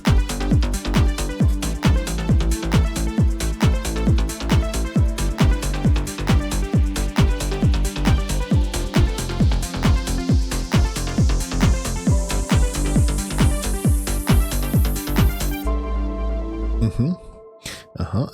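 Overdriven synth line with a steady driving beat and a filter sweeping upward, loud and continuous, then cutting off abruptly into a brief sparse tail near the end.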